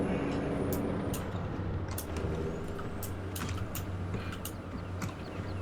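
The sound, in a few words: truck engine running in Farming Simulator 2017 video game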